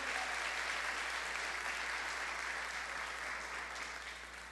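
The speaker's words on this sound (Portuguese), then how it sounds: "Vou dar um aplauso para Jesus pela vida dela" A church congregation breaks into dense, loud applause that fills the room evenly and eases off slightly at the end, with no voices rising above the clapping.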